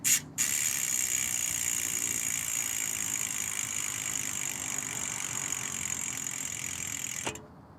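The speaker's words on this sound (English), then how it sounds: "the freewheel sound that I'm going to film here late at night in my driveway" The freewheel of a Zipp 101 XPLR gravel wheel clicks in a fast, even buzz of ratchet pawls, close and steady in a quiet driveway at night, then stops abruptly.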